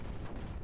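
Mortars fire in the video game Creeper World 4, producing a quick cluster of dull, booming thuds that rumble low and close over a very short moment.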